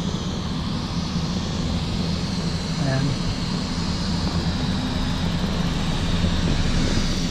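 A private jet passes and comes in to land with a steady, loud roar that runs the whole time. A voice says a word briefly.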